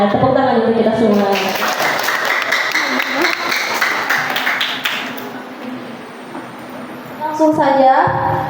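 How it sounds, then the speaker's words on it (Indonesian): Clapping from a school audience at a literature appreciation performance, swelling in the middle and fading, with voices and a few taps at the start and end. "Iya, tepuk tangan untuk kita semua."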